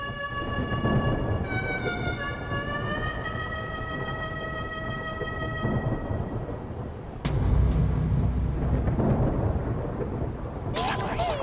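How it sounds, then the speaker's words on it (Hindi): Steady heavy rain falls outside at night, with a loud thunder crack and rumble partway through and a rising musical tone early on. "बाहर मस्त बारिश हो रही है"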